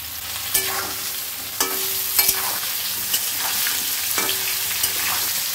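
Ridge gourd sizzles in a pan while a utensil scrapes and taps against it every second or so, with an even frying hiss underneath.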